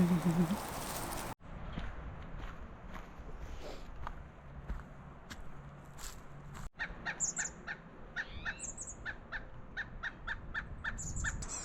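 Crows caw several times in quick series, moderately distant, over faint outdoor ambience and occasional soft footsteps.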